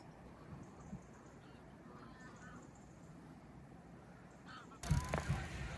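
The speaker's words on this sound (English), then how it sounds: "This field was a meeting place for geese." Geese honk in a field, faint and distant over low background rumble, a few scattered calls, with a louder, closer burst of noise near the end.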